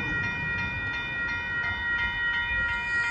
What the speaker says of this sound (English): we got a train heading towards Dittmar right now.